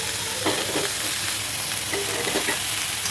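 Cabbage Manchurian tossed in a hot pan, a steady close sizzle with a few scraping stirs and tossing rustles over about three seconds.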